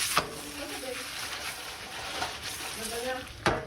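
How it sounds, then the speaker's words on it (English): Chicken hearts and gizzards sauté in a pan with a steady, close sizzle, briefly tossed so a couple of sharp scraping clatters break through the frying hiss. "the hearts and gizzards are sauteing"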